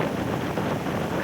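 An air cooler switched on indoors during a hot day at home, giving a steady, fairly loud rushing blow of air that fills the whole short moment with no speech over it.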